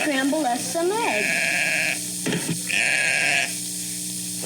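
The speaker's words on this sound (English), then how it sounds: "What's that? The sheep." Sheep bleat from a farm in an old 1960s film soundtrack, wavering calls followed by two long sustained bleats, with people talking and a faint sizzle of cooking in the background.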